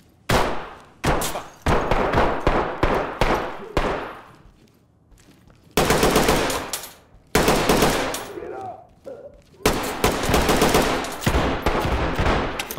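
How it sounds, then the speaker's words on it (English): Gunfire in the tactical shooter Ready or Not comes in loud, sharp bursts separated by brief gaps, with several long rapid volleys and echoing tails between them. "He's shooting our direction"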